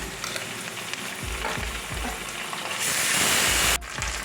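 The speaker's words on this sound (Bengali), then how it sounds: "এবার আমি 1 চামচ আদা বাটা দিচ্ছি" Ginger paste hits hot oil in a pan with fried onion, giving a steady close sizzle under intermittent soft low thumps of stirring, with a sharp brighter hiss swelling near the end before cutting off.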